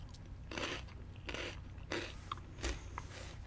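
Crunchy, thin cheese-flavoured corn snacks are bitten and chewed close up, giving four or five loud crisp crunches spaced roughly half a second apart, with no talking.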